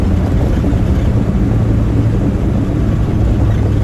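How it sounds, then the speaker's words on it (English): A 1965 Chevy Nova wagon engine fitted with a Holley carburetor and Edelbrock intake idles steadily, a dense, continuous low rumble that stays even and close throughout with no talking. "The idle is smooth."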